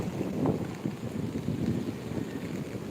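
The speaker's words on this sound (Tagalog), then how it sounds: "Malakas ang hangin." Blustery coastal wind by the sea at Sablayan, Philippines buffets the microphone in low rumbling gusts, with a faint sea-like wash beneath and no voices.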